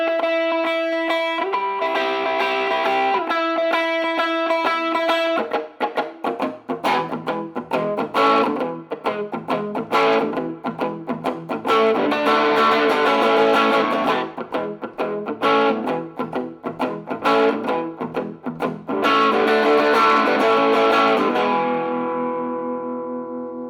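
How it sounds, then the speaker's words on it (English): A Special Edition Fender Telecaster FMT electric guitar played through heavy distortion on its neck pickup, with sustained chords giving way to busy, loosely noodled lead runs that ring out loud and alone, ending on a fading held chord. "Do some more noodling, a little more distortion. I'm on the neck pickup here."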